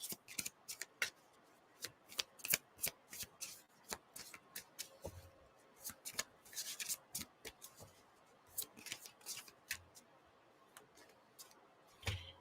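Tarot cards are shuffled and drawn in a quiet room, a long run of crisp riffling snaps and soft slaps at close range, irregular and evenly loud, without talk.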